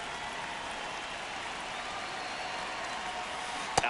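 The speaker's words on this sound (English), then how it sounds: "the field's not going to be able to hold up if the rain gets any worse than this" Rain falling on a baseball field in the MLB The Show video game, a steady even hiss of rainfall over the stadium, heard alone and continuous throughout at moderate loudness.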